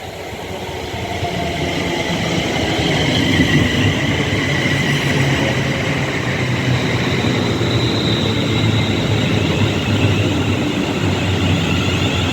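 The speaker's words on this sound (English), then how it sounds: "Coming in now, we have the late running 1527 London North Western Railway service to London Euston." A late-running London North Western Railway passenger train pulls into a platform at Rugby station, its steady loud rumble and rolling wheel noise filling the scene throughout, with a faint high whine above.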